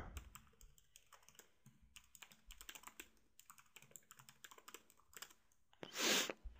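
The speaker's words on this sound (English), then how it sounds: "I want to type out the same sentence." Typing on a computer keyboard, a quiet run of close, irregular key clicks and taps, ending with a louder brief clatter.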